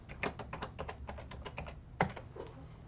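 Rapid typing on a computer keyboard while entering a password in a Linux development setup, a steady run of close, light key clicks with one sharper keystroke near the end.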